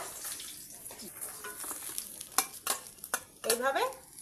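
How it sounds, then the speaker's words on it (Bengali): Fish fry in a pan with a low sizzle under clattering turner scrapes and clinks as pieces are stirred and lifted out, close and fairly quiet. "এইভাবে সব মাছগুলো ভেজে নেব।"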